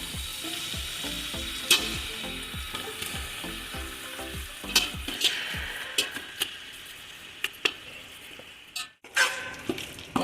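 Tomato masala for chicken biryani frying in a pan, a steady sizzle with repeated sharp clinks and scrapes of a spoon stirring, close and fairly loud, no talking.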